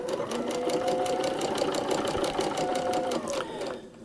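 Close, steady whirring of a sewing machine stitching a paper-pieced quilt block, with a rapid even needle rhythm running continuously before winding down at the end.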